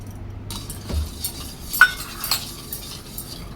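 Kokum extract being stirred with sugar for solkadi, a spoon clinking lightly against a glass or bowl in a few scattered taps over a quiet background.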